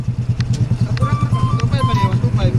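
A Suzuki RS125 FI motorcycle fitted with an open pipe exhaust idles close by, a loud rapid regular putter, with someone talking over it.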